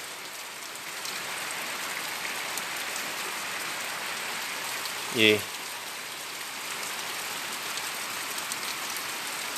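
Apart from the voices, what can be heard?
rain falling outside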